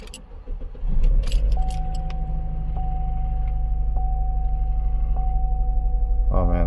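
A 2014 Chevrolet Cruze 1.4-litre engine with a misfire cranks and starts with a jangle of keys, then idles steadily and loudly close by while a chime repeats, a voice briefly audible at the start.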